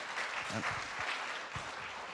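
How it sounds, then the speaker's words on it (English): Faint audience applause after a short business presentation at a circular-economy forum, a distant even patter of clapping with a few low voices underneath. "Let's give a good applause to Ales."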